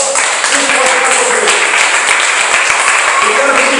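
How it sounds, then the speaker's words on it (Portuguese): Church congregation applauding loudly and steadily, dense clapping with shouting voices mixed in, close and continuous. "Quem pode aplaudir o mestre bem forte?"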